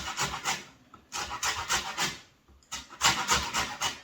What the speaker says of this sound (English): We're just going to grate a little bit of peel from the orange, the zest, peel,